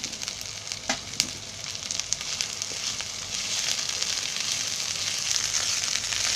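Green peas sizzle in a pan with chicken mince, a steady frying hiss running throughout with a few faint stirring clicks early on, growing slightly louder toward the end, no talking.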